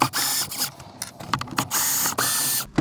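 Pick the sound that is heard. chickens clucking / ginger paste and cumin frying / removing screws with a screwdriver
removing screws with a screwdriver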